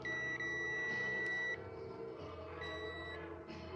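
A multimeter beeping during a continuity test on a motorcycle fuse, giving two sustained electronic tones of about a second each, separated by a short gap, over quiet background hum.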